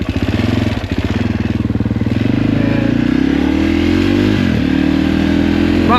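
Sherco 450 SEF enduro motorcycle idling with a lumpy, uneven beat, then its pitch rising smoothly as the engine revs up, loud and close throughout.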